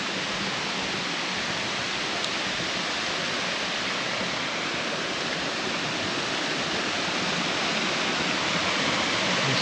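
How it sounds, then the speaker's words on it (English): Yellow Branch Falls, a waterfall in South Carolina, pours in a steady, dense rushing roar close by, unbroken and even throughout with no voices. "a beautiful waterfall."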